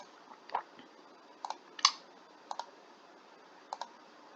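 Sparse mouse clicks at a computer, some single and some in quick pairs, close and fairly quiet over a faint steady background hiss with no talking.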